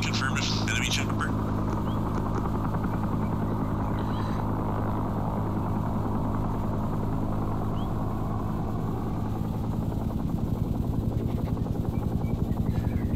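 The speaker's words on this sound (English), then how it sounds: "About to take this chopper down." An enemy helicopter in SOG Prairie Fire flies nearby, its rotor and engine drone a steady low, even hum that fills the whole stretch at moderate loudness with no break.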